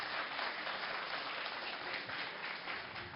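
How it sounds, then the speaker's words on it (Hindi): An audience at the Panchayat Aaj Tak event applauds Akhilesh Yadav with steady, dense clapping that stays even and moderately distant throughout, with no voices on top. "एक बार जोरदार तालियां हो जाएं अखिलेश यादव जी के लिए"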